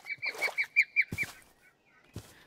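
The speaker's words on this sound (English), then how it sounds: "Do y'all hear those birds?" Birds in a modded Minecraft zombie-survival game give a quick run of nasal, goose-like honks, fairly faint, followed by a few softer scattered calls.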